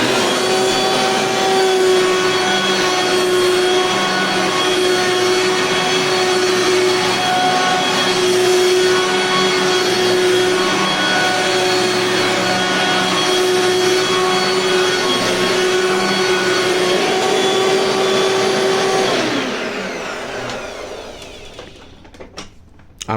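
Dirt Devil Impulse vacuum cleaner running steadily and loudly for about nineteen seconds with a constant motor whine, then spinning down and fading out near the end.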